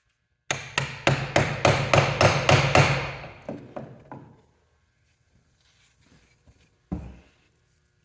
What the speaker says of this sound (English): tap on the axe head, tap this on one more time